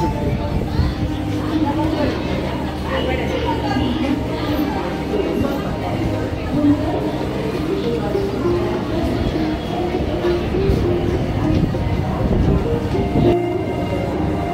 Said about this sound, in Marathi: चालेल माल गाडी